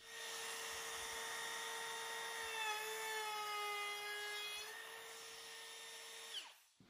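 A handheld router shaping a moulding test piece in wood gives a high, steady whine with a slight pitch dip mid-cut, then winds down abruptly; fairly quiet, with no voices.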